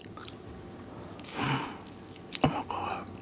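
Quest pepperoni pizza with a soft, not very crunchy crust being bitten and chewed up close, with soft moist crunches around the middle and a sharper bite near the end, no talking.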